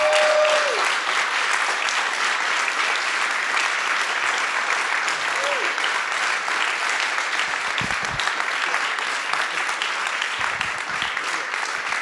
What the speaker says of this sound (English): Let's give a big round of applause for Dax Da Silva, our host tonight, really loudly.